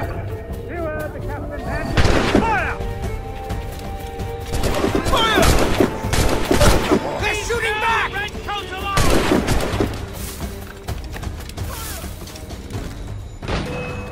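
Gunfire in the Assassin's Creed Rogue remastered game, with sharp, loud bursts of shots in clusters amid a steady musical and ambient bed, with speech heard in the mix.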